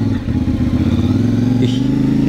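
A CFMOTO 450MT motorcycle running under way, its engine a loud, steady, throbbing drone with an even pulsing rhythm close to the rider, no speech over it.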